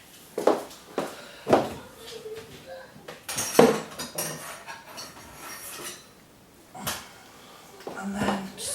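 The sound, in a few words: knife trimming and slicing leeks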